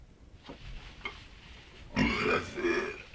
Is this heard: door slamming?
no